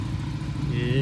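A Polaris Slingshot engine idles close by with a steady low rumble, under the sound of people talking.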